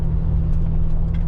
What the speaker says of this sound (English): climbing the mountain's kind of nice because you get to hear the exhaust and everything